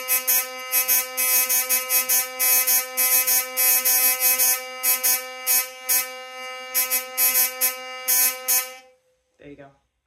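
A hurdy-gurdy cranked steadily, its buzzing drone and sustained strings pulsing in a regular rhythm of strokes, loud and close, stopping near the end with a brief knock.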